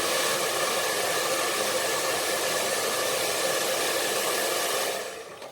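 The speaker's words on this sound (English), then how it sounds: "And now I'm going to just dry this one." A hair dryer blow-dries hair with a loud, steady, close-up whooshing roar that holds constant for about five seconds, then quickly fades out.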